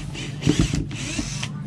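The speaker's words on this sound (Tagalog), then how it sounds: "Ito palang cordless na drill mga boss. Itong ginagamit ko ito." A cordless drill used for house building whirs continuously in short pulsing bursts, close and fairly loud, with a slight rise and dip in motor pitch.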